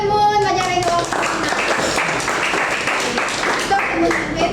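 A school class clapping hands together in a classroom, steady dense applause of many small hands running throughout, with children's voices mixed into the clapping.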